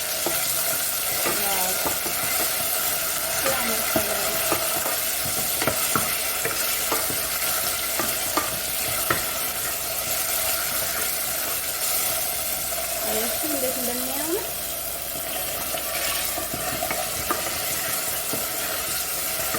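Tomato paste frying in a pan for an eggplant salona, a constant loud sizzle with scattered stirring clicks while someone talks over it now and then.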